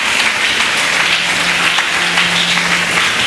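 A church congregation at a Friday worship service bursts into sustained applause acclaiming Jesus, dense steady clapping close and loud throughout, with no talk over it.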